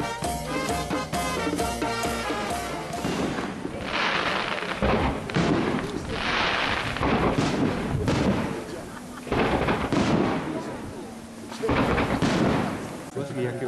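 Festival fireworks at San Leo, after a miners' band from Perticara, boom and crackle in repeated bursts, some deep and rolling like thunder, others sharp, with faint voices between blasts.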